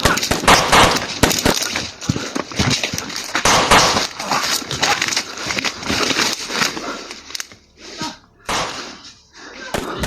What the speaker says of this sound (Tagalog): may putukan ng baril